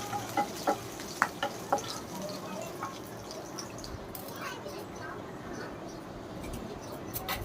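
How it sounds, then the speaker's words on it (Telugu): Garlic, mustard seeds and chana, urad and moong dal fry in a pan with a steady low sizzle and a few sharp pops early on, while a voice speaks over it. "వెల్లుల్లిపాయ వేసి దోరగా వేగాక ఆవాలు, శనగపప్పు, మినపప్పు, పెసరపప్పు వేసి"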